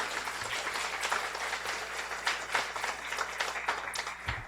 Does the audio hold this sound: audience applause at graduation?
yes